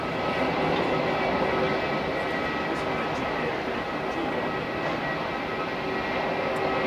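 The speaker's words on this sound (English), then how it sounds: "The Jetstar 78 being taxied down to the jet base." A Jetstar jet airliner taxiing at Melbourne Airport makes a steady, fairly loud broadband engine roar and rumble that holds constant throughout.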